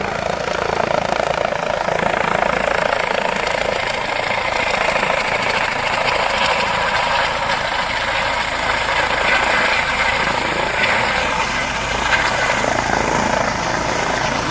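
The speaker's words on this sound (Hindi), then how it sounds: "ये दीपेंद्र हुड्डा का हेलीकॉप्टर रामरा गांव में लैंड कर रहा है।" A helicopter lands near a village helipad in Rampa, Haryana, its rotor roar loud, close and steady throughout with rhythmic whirring blade chop and no talk over it.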